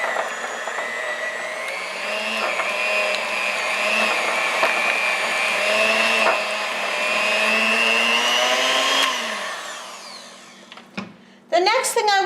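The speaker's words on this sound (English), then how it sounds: "I am just going to mix that for a minute. I want to cream my cream cheese." An electric mixer creams cream cheese in a bowl with a steady whirring motor hum that shifts slightly in pitch, running close and loud for about nine seconds before stopping, followed by a brief clunk and clatter.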